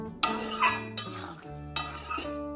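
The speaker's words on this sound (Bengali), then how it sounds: "ভালোভাবে লবণটা মিশিয়ে নিন" Salt being stirred into a paneer mixed-vegetable curry, with a few distinct spoon scrapes and clinks against the pan separated by short pauses, close and moderately loud, no speech.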